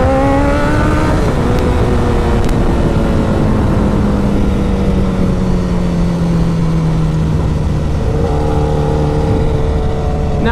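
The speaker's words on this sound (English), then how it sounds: "I'm going to show you guys a little clutch wheelie" A 2008 Honda CBR 1000RR sportbike revs hard for a clutch wheelie, its loud engine note sliding steadily downward, then climbing again near the end over constant wind noise, close and with no speech.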